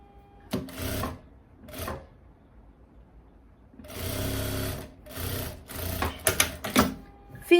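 A sewing machine stitches a fabric seam in several short mechanical bursts of whirring needle action, separated by quiet pauses, with a longer run near the middle.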